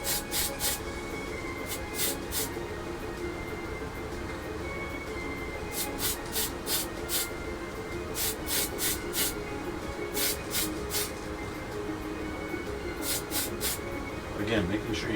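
Short hissing bursts of an airbrush or spray can lay a second coat of paint on the rear wing and tail of a 1/32 Tamiya F-51D Mustang model, intermittent and fairly quiet over a steady background hum.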